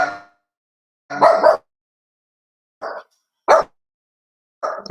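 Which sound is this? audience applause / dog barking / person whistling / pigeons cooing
dog barking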